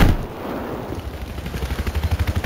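Automatic gunfire in the video game Battlefield 4, a rapid steady burst of shots that grows more regular and punchy toward the end, loud over a busy battlefield background, with no talk.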